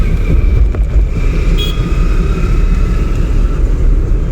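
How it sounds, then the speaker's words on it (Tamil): A car driven by a learner during a driving-school lesson rumbles with a steady low engine and road drone from inside the cabin, loud and continuous, with a faint brief tone partway through. "தப்பில்லை, வண்டி ஸ்மூத்தாக போயிட்டு இருக்கு."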